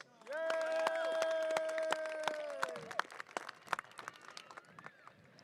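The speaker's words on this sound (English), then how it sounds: "Another round of applause to the best assistant principal" At a high school graduation ceremony, a distant crowd lets out a sustained cheer, then it fades into scattered, uneven hand claps in a large room, faint overall.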